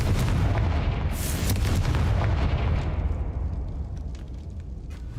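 The Confringo blasting spell from a wizarding video game erupts in a loud, booming explosion, a sustained rumbling roar that gradually fades over several seconds.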